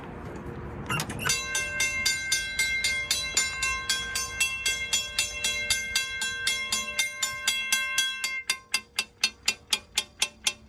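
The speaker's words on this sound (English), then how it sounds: "I'll ring the bell and show you what I'm talking about" A railroad crossing bell, struck by a coil-driven plunger, rings in a rapid, even series of metallic dings for about ten seconds, close and loud, the strokes becoming sharper and more distinct near the end.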